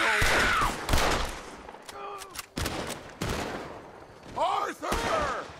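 Gunfire in a shootout with O'Driscolls in Red Dead Redemption 2: loud rifle and pistol shots crack in uneven bursts, close and echoing, while voices shout over the fusillade.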